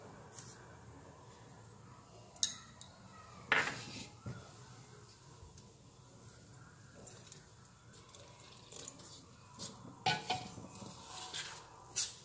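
Gram flour batter with salt being mixed in a bowl for garlic potato pakoras: quiet scraping and a few sharp clinks of a utensil against the bowl, with splashes of water between them.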